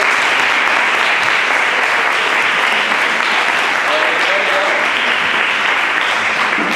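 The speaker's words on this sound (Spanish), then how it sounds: "Por favor, un fuerte aplauso para el profesor Castro" An audience at a university debate applauds a professor with loud, continuous clapping that fills the hall and holds steady throughout.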